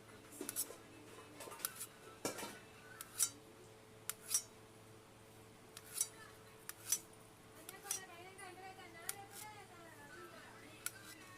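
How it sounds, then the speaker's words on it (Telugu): Knife slicing through a banana on a cutting board at home, a series of soft, quiet cuts and taps spaced irregularly, with faint background sounds and a voice nearby. "ఇలా బనానాని కట్ చేయాలి."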